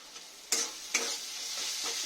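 Ground poppy seed and chili paste sizzles steadily in a pan while being stirred, with sharp scraping strokes at intervals over a continuous close frying hiss; no voices.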